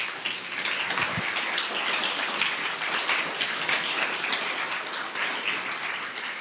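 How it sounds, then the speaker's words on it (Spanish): Church congregation applauding together during a sermon, a dense, even wash of clapping that holds steady throughout at moderate level, with no speech over it. "Dale un fuerte aplauso a Dios."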